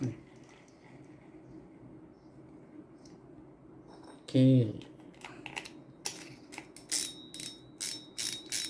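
A DEUKIO AR spinning fishing reel with an aluminium spool and plastic parts is turned by hand, giving a short clunk followed by bursts of rapid ratcheting clicks close by, alongside someone speaking.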